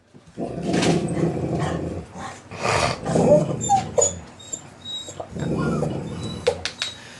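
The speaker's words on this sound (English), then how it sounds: "That's Buffalo Butt down there growling at something." A dog growls and lets out a few barks and whimpers nearby, in several bursts with short pauses between.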